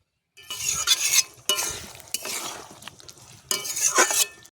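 Chicken and potatoes are stirred and sautéed in a pan in three scraping bursts, each a bright rasp of spatula against metal over a low sizzle, with brief pauses between and no talking.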